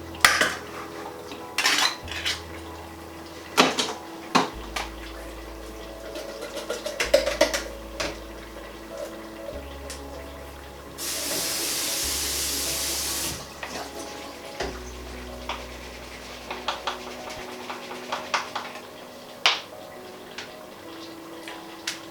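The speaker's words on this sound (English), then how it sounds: "So I'm going to drain the beans first." Canned beans being drained and rinsed in a kitchen: metal clanks and cutlery-like clinks come in bursts, and a few seconds of steady running tap water sit in the middle.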